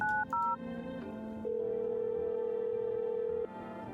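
Telephone keypad tones dial a number in the video game No, I'm not a Human: a few short beeps followed by a long steady tone.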